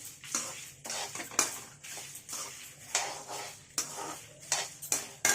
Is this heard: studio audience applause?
no